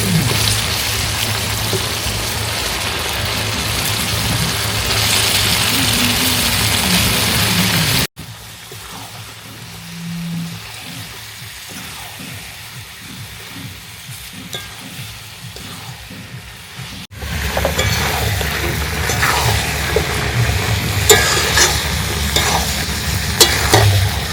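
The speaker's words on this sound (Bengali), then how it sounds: "এবার আমরা দিয়ে দেবো ধুয়ে রাখা চিকেন।" Washed chicken pieces sizzle and crackle in a hot pan with steady stirring, loud and continuous, dropping to a quieter, sparser sizzle midway before swelling back to a dense, busy fry.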